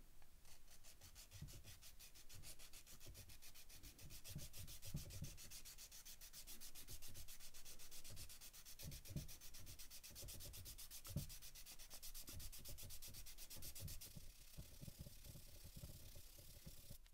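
Steady rhythmic scraping of a knife or file down an Alta Ambipoly synthetic resin reed, repeated close strokes rasping back and forth, quiet and continuous with no talking.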